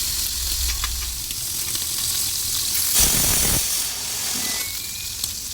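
Prawns fry in a pan with a loud, steady sizzle and hiss close by, swelling into a brief burst of spattering partway through, with a low electrical hum underneath at the start.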